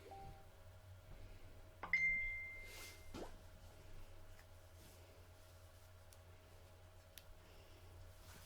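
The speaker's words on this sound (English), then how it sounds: "That was my phone." A mobile phone gives a short notification chime, a single bright tone that holds briefly before stopping, heard faintly in a quiet craft room with a few soft ticks around it.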